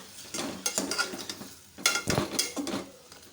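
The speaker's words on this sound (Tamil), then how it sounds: "இதை ஒரு தடவை நல்லா கலந்து விட்டுருங்க" Chettinad kara chutney with tamarind and fresh curry leaves stirred in a pan, giving a run of close, scraping strokes with faint sizzling and light clinks of a spoon against the pan, with no voices.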